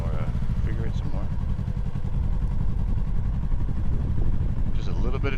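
A 2025 Yamaha R3 300cc motorcycle rolls along at walking pace, its small engine giving a steady low, even thrum close by with light mechanical clatter and no revving.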